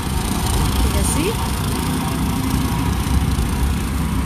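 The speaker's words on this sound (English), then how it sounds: "here we have Sarah is on the tractor and she's giving us a low cut" Tractor pulling a three-prong mower on a low cut through a meadow, its engine a steady, loud, continuous drone with rough low-end rumble, while a person talks over it nearby.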